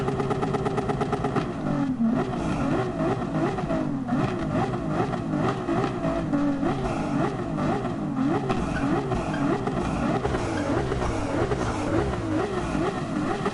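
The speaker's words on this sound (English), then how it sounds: "Engine definitely sounds nice on that car." A stock race car engine in Gran Turismo 7 roars continuously, its pitch repeatedly climbing and dropping sharply as it revs through gear changes at close range.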